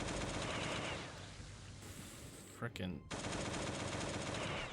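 Rapid automatic AK assault rifle fire from the Last Day on Earth game rattles in dense bursts, loud and close, pausing briefly in the middle before resuming, while someone speaks over it.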